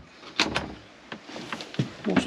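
A small storage drawer in a motorhome interior slides and knocks, a few quick soft thuds and rattles over about two seconds, close and fairly quiet.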